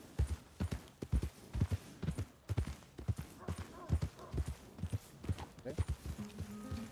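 Horse hooves in Red Dead Redemption 2 clip-clop at a steady walking rhythm, close and clear. Faint game sounds sit beneath them.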